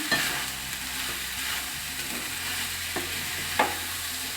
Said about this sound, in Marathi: चवीनुसार मीठ घालायचं व्यवस्थित दोन ते तीन मिनिट परतून घ्यायचं गॅस बारीक ठेवून